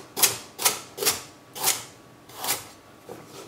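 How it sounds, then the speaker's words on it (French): A knife chops through a peeled carrot on a cutting board in the kitchen, six or seven crisp separate cuts at a steady, unhurried rhythm, close and clear with no talking. "on va venir couper comme ça la carotte"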